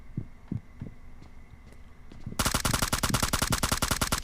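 PUBG Mobile gunfire: a few soft thumping footsteps or shots, then a loud, rapid automatic burst of evenly spaced shots that fills the last couple of seconds.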